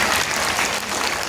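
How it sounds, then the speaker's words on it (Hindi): A congregation claps together at a Bhagavat Katha religious discourse in Surat, Gujarat, a loud, dense burst of applause filling the whole moment. "तालियां बजा दो।"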